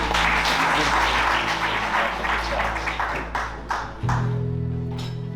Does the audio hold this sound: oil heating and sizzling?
no